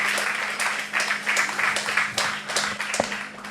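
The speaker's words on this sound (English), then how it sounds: "So let's get a loud applause to you all." Audience at a valedictory programme applauds loudly, a dense wash of many hands clapping steadily throughout with a faint low hum underneath and a sharper clap near the end.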